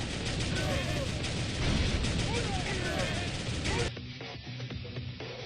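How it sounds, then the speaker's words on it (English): Enemy tank fire in the rogue-like game Thunder Tank: dense, rapid bursts of gunfire rattle on without pause, then cut down sharply to a thinner, quieter clatter for the last second and a half. "this guy's shooting pretty hard at us"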